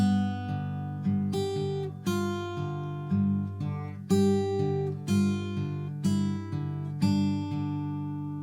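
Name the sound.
acoustic guitar fingerpicking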